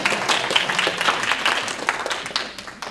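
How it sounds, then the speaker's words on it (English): Moderate applause from a gathered audience at a progressive caucus meeting on the Occupy movement, a mid-distance patter of many hands fading slightly toward the end. "You can clap for him"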